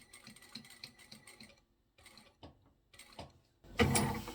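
A sewing machine stitching a seam on a fabric folding bag, running in short mechanical bursts of rapid clicking with quiet pauses between, close and fairly soft, ending in a louder rustle.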